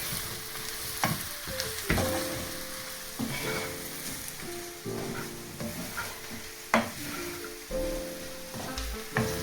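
Garlic frying in a pan for a cheesy chicken pasta bake, stirred often: a steady close sizzle broken by repeated scraping and clinking strokes, with no talk over it.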